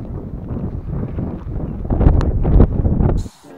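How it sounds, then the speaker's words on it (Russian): Strong wind buffets the microphone outdoors at Whitby Abbey on a clifftop, a loud continuous rumbling roar that swells near the end and then drops away abruptly. "Ветер просто ужасный."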